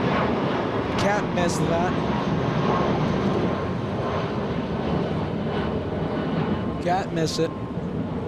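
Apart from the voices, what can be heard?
Lufthansa airliner landing at LAX airport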